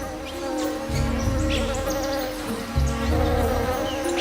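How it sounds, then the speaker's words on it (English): Male orchid bees buzz near a fragrant bucket orchid in Colombian forest, a dense steady insect hum with layered wingbeat tones and swelling, overlapping passes, fairly close and continuous. "Luring in male orchid bees from as far as 30 miles away."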